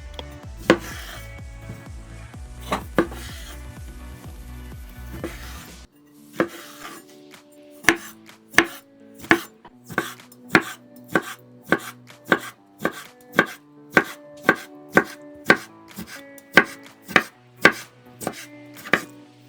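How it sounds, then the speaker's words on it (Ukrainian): A knife dices pickled cucumbers on a cutting board, a steady run of sharp, evenly spaced strikes that starts slower and then speeds into a regular rhythm. "Мариновані огірки нарізаю дрібним кубиком."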